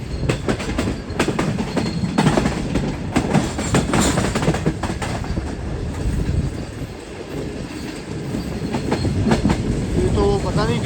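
The Shah Hussain Express on its way to Multan runs loud and steady on the rails, with a continuous rumble, rhythmic clickety-clack from the wheels and brief squeals, heard close from aboard.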